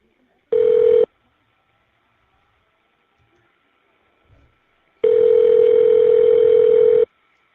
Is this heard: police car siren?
no